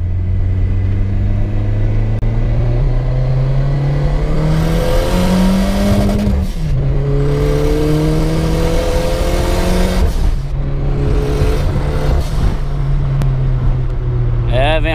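A turbocharged car accelerates hard and close, its engine note climbing through several gear changes, each climb dropping back before rising again.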